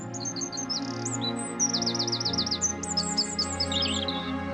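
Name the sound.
birds chirping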